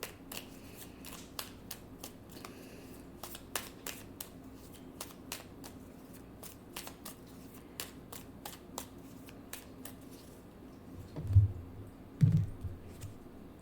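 A deck of tarot cards is shuffled close by in a quiet room, making a long run of quick, crisp riffling clicks, with a couple of heavier thuds near the end.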